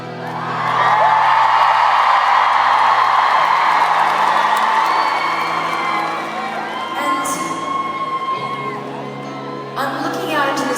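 A large concert crowd in Amsterdam cheers and screams for a long stretch, a loud sustained roar with whoops on top that slowly fades, with a voice speaking over it near the end.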